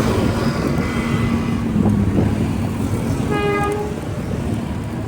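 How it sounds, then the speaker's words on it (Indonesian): A train rumbles past at a distance on the tracks below a Kiaracondong overpass in Bandung, with a continuous low roar, and a horn sounds briefly partway through. "Kebetulan ada kereta lewat."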